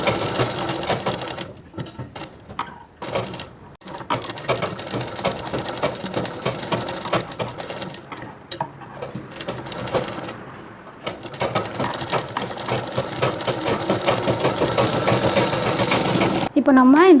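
Sewing machine stitching the folded outer piece of a chudidhar collar, a continuous buzzing run broken by several short pauses, steady and close.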